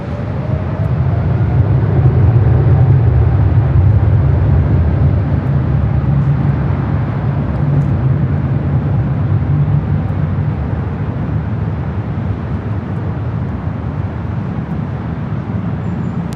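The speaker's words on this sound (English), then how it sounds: "taking off to Paris on the 777-300ER" Air France Boeing 777-300ER taking off from runway 24 left at LAX, a loud, sustained low jet roar at distance that peaks early and slowly fades over many seconds.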